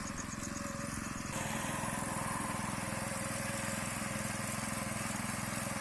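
A rice harvesting machine's engine runs steadily in a paddy field, a constant mid-pitched drone with a fast, even pulse, fairly distant and unbroken throughout.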